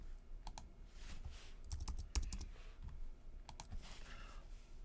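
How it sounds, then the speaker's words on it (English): Quiet clicking of a computer keyboard as a library card number is typed, irregular keystrokes in short bursts with pauses between them, close and faint. "I'm going to type the library card number of my library and the PIN code of my library"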